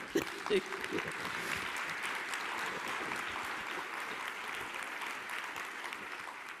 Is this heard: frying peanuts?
no